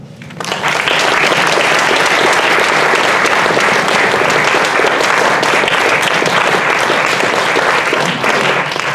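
An audience claps loudly and steadily in a lecture hall to welcome a physician to the podium, the dense applause swelling in after a brief quiet start and holding strong throughout.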